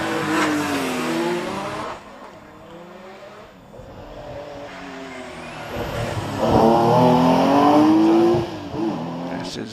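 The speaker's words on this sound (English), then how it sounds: "we turn the clock back a little bit further in 911 history with the 3 litre 911 of Richard Jones" A 1970s 3-litre Porsche 911 races up the Prescott hillclimb course, its engine note rising and falling through gear changes as it passes fairly close, with a commentator talking over it throughout.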